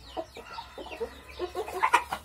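Chickens in a pen with a rooster, giving a run of quick, close clucks and short squawks that grow busier and louder toward the end.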